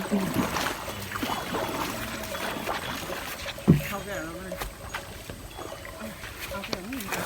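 A rowboat is paddled through water during play, with soft splashing and dripping strokes beneath lively voices talking and calling out nearby.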